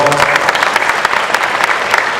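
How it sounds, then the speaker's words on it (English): An audience claps in a steady, dense round of applause at a hands-only CPR community event, loud and close, with a brief voice at the start. "Big round of applause."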